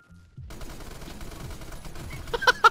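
M60 machine gun firing in Phantom Forces, a rapid rattling stream of shots starting abruptly and continuing steadily, with a few louder sharp sounds near the end.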